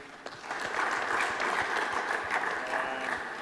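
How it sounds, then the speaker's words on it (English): Applause from a conference audience for the speakers at a tennis coaches conference in Minsk, steady dense clapping filling the room without a break. "Round of applause, please,"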